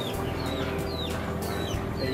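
Chickens eating caterpillars on a bush cluck and chirp nearby in a continuous busy chatter, with several birds calling over one another against outdoor background noise.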